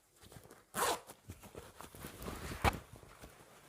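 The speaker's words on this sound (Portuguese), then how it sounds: "Quando eu fechar o zíper" A zipper is drawn shut on a sewn straight skirt, two quick rasping pulls close by, with faint handling noise between them.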